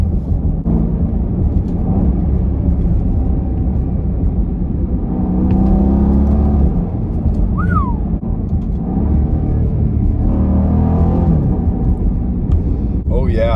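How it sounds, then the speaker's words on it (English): A Jeep Grand Cherokee engine rumbles steadily through downshifts, revs swelling and dropping under a heavy low drone, with people talking over it. "Let's hear the downshifts in this thing."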